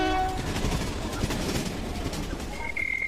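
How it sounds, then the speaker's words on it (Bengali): A train rumbles steadily with continuous rail noise, and a long horn tone rises near the end. "আরো প্রায় দু ঘন্টা দাঁড়িয়ে থাকার পর ট্রেন ছাড়ল"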